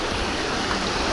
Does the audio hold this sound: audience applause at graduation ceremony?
no